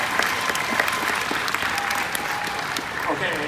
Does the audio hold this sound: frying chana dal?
no